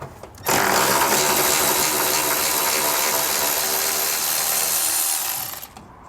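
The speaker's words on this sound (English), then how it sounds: "We'll take our ratchet here and remove our bolt" A bolt being removed on a 2018 Chevrolet during helper spring installation, heard as a loud, continuous whirring of a powered ratchet running close for about five seconds before winding down, with no talking.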